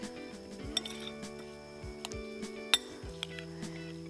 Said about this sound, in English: We'll just give this a gentle stir, real gentle.